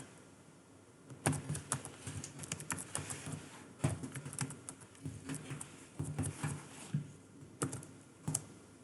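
Rapid, irregular key clicks as a password is typed on a computer keyboard, close and fairly quiet, arriving in short bursts with brief pauses and no talk.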